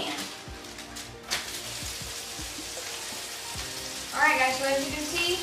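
Burger patties frying in a pan for cheeseburger sliders, giving a steady close crackling sizzle with scattered pops, which briefly grows louder toward the end.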